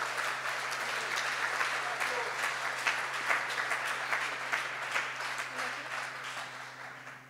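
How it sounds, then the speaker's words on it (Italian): A church congregation applauds warmly and continuously, many hands clapping at once and tapering off toward the end. "Un applauso a questi anziani della Chiesa."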